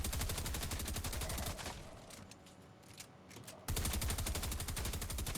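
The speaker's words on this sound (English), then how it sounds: "you can get a weapon and you can shoot through it, and then it makes holes" Rapid automatic gunfire in the game Fortnite shoots through a wall, a dense close burst, a short lull with scattered shots, then another sustained loud volley.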